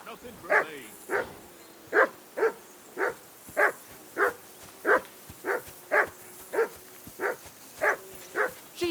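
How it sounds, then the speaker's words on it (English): A dog barks steadily and repeatedly, about one bark per beat, fairly loud and close, over a faint constant background hum, in Kingdom Come: Deliverance II. "Henry, that barking's driving me nuts."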